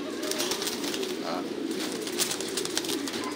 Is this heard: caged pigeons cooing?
yes